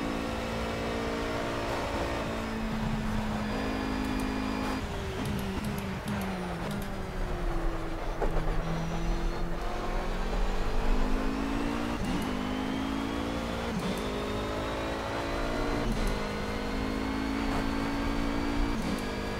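A BMW race car engine in Project Cars lapping the Nordschleife, a steady loud drone that climbs and drops in pitch through gear changes and corners, continuous throughout with no talk.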